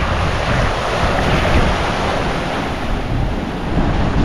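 Strong wind of about 25 knots and rough Atlantic seas surge around a fast-moving sailboat, a loud, continuous roar of wind buffeting and rushing water with no talk.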